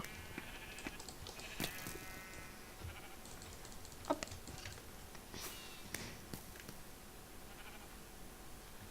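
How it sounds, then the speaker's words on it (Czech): Sheep bleat in the video game Minecraft, several short faint bleats scattered among quick keyboard clicks and small game sounds, with no talking. "Tak, máme ovečku, teda."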